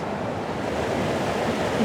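Water flowing down near a tree in a landscape setting, a steady broadband rush like a small cascade, close and continuous without pauses.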